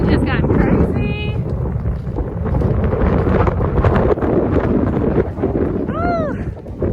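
Strong gusts at Lily Lake in Rocky Mountain National Park roar and buffet loudly and continuously against the microphone, with voices faintly present beneath the wind.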